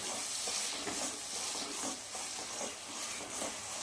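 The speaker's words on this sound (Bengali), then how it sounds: "এই দইটা দিয়ে ভালো করে কষিয়ে নিতে হবে" Katla fish sautéing with yogurt in a pan, a dense continuous hiss and sizzle with soft stirring scrapes underneath, close and steady.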